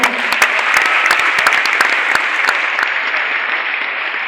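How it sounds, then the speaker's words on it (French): An audience at a French civic event applauds, dense clapping with several sharp close claps standing out early on, the ovation fading slightly toward the end. "Vous pouvez faire mieux que ça, les intervenants qui sont intervenus ici ces 10 dernières années, applaudissez bien fort."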